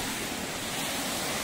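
Pangabitkabiton Falls in Jamindan, Capiz, Philippines, a dense, unbroken roar of falling water, loud and close, with no voices.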